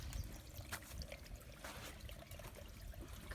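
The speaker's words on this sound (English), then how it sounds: "the water doesn't end. It's just dripping and dripping" Water drips and trickles steadily out of an old bluff wall with buried bricks, a faint, irregular patter of drops over a soft running flow, with no voices.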